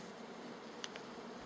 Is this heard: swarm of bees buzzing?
yes